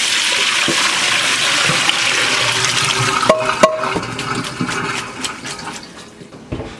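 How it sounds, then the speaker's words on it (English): Ice water is poured into a pot over pasta, giving a loud, continuous rushing splash that fades into lighter trickles and small clinks of ice. "So we stop the cooking process here with ice water."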